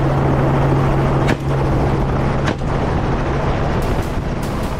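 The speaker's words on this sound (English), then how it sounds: "The helicopter swiftly closes in" A helicopter's rotor thrums steadily and loudly overhead during a wild boar hunt, a continuous low beating drone with a few brief dips.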